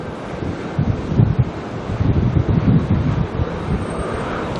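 Strong gusting wind buffeting the microphone at Auckland Airport, a loud continuous roar that swells and surges in waves with no speech.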